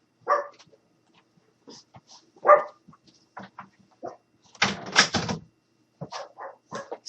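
Several dogs in a house bark in scattered, irregular bursts and yips nearby, with brief silences between the outbursts.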